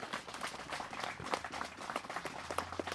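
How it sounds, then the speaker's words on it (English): Wedding ceremony guests applaud in a steady wash of clapping, fairly soft and distant, with no talking over it. "I think this deserves a round of applause."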